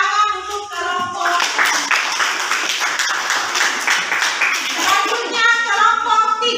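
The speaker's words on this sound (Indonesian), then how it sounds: "kita beri tepuk tangan untuk kelompok" A classroom group of students claps together for a presenting group, a burst of close, fairly loud handclaps lasting several seconds, with voices talking briefly before and after.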